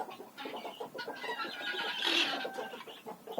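Young dwarf chickens in a village yard being fed scraps, a busy mix of soft clucks and chirpy calls, some with trilling tones, close and continuous without talking.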